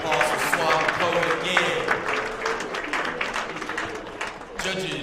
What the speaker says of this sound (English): All right, round of applause for Swab Poet